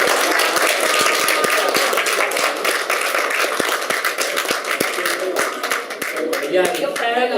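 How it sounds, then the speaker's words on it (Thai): A crowd claps in a dense, steady burst of applause at a birthday celebration, gradually thinning out toward the end. "ขอเสียงปรบมือ"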